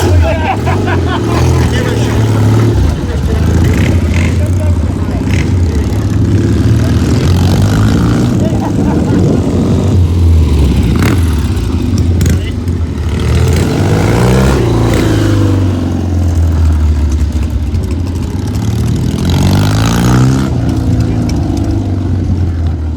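A Rickman Metisse motorcycle engine runs loudly and steadily throughout, with a deep drone and rising revs at an outdoor parade gathering, while someone talks over it nearly the whole time.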